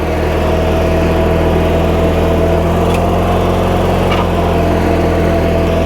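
An Allis-Chalmers D15 tractor engine runs at a steady idle at an Allis-Chalmers show, a continuous loud droning hum with a couple of faint clicks partway through.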